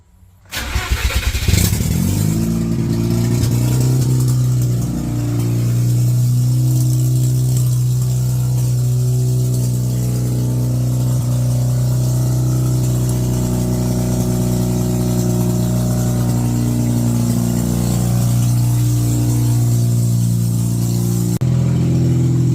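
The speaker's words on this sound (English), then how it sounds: "So I've sprayed a whole heap of decarb in this blue car. Going to give it a start." A blue Mazda RX8 rotary engine treated with decarbonising spray cranks and fires up, then settles into a steady, loud idle that runs unbroken for about twenty seconds before cutting off.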